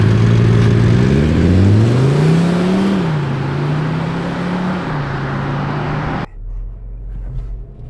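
Škoda Kodiaq RS diesel SUV accelerating hard in sport mode, its engine note climbing through rising gear pulls with shift dips, loud and steady inside the cabin before cutting to a quiet hum.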